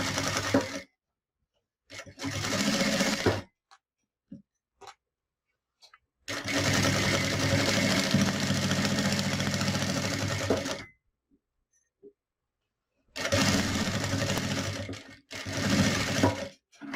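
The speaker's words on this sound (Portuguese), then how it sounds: "Como essa é a costura de acabamento já, eu vou fazer o início e o fim, no início e no fim, o retrocesso. E venho seguindo costurando." Sewing machine stitching a finishing seam on a phone and document holder, in bursts of fast steady motor whirring separated by pauses, loud and close with no talk.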